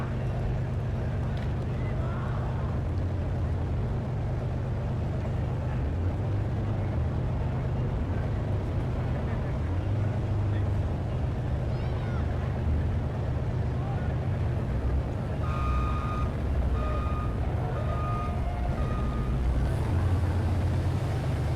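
A supercharged V6 truck engine at an off-road Tuff Truck Challenge drones and rumbles continuously, rising and falling slightly, with voices talking over it.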